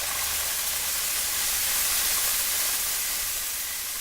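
Fire truck water hissing onto a burning, smoking pyramid in a game: a continuous, even broadband hiss like spraying steam, loud and unbroken for the whole stretch, with no voices over it.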